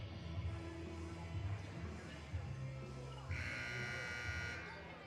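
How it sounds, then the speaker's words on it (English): A loud, harsh electronic buzzer blares for about a second and a half over the steady murmur of a gym crowd at a women's JV basketball game. "The buzzer sounds."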